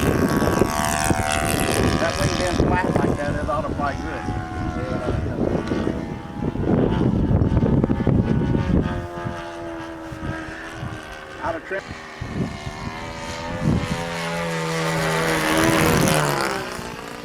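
An RC model airplane flies on a windy day, its propeller engine buzzing and whining as it passes, with the pitch shifting up and down while people talk throughout.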